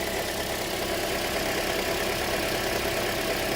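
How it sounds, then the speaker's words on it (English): A 2007 Toyota car engine idles steadily, a constant even hum with slight mechanical texture, close and unbroken for the whole stretch. "the car is running very fine"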